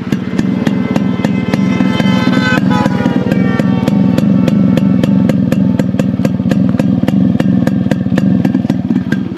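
A Yamaha RX motorcycle engine idles loudly and close, a steady rapid chugging thump that keeps its even rhythm throughout.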